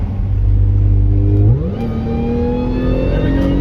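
A car engine fitted with a Magnuson TVS 1740 supercharger revs loudly up close, holding a high steady pitch, then dropping and climbing again with a rising supercharger whine layered over the exhaust.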